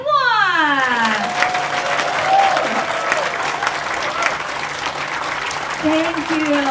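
A ballroom audience at a corporate event bursts into loud, sustained clapping mixed with some cheering, the dense applause running throughout after a voice counts down.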